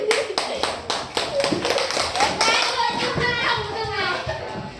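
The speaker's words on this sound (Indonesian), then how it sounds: "Oke, tepuk tangan." A class of children claps in unison, a quick run of evenly spaced claps lasting a couple of seconds, followed by the chatter of young voices filling the room.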